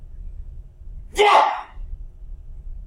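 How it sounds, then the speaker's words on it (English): One sharp, breathy sneeze bursts out over a low, steady background hum, brief and close, with nothing else around it. "I'm going to sneeze."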